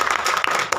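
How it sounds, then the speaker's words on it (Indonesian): Audience applause at an ASEA event in Jakarta, a brief burst of dense, moderately loud clapping from a crowd. "Tepuk tangan dong."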